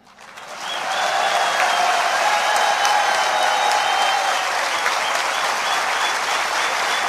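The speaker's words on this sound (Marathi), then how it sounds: "आता टाळ्या कमी का वाजवल्या?" A crowd at a political speech in Mumbai breaks into sustained applause, swelling quickly to a dense, even wash of clapping that holds steady for several seconds without voices over it.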